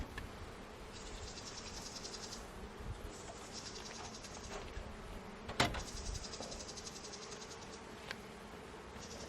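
Honey bees buzz steadily in an open hive during a calm, bare-handed check in pleasant weather. The hum is faint and continuous, with no voices, and a brief sharp click lands about midway.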